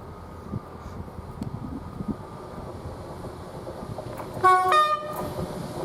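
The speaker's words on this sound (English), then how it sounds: "Now we've got this East Midlands Railway train from Norwich to Liverpool" A steady low rumble of an East Midlands Railway passenger train passing through Grantham station, then a loud two-tone horn sounds near the end.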